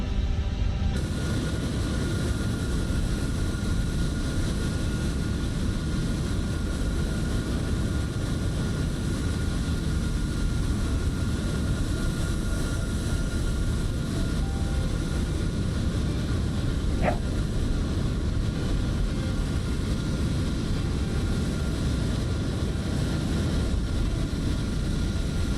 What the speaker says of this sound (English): I will power up the APU now.